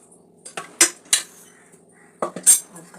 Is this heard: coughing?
no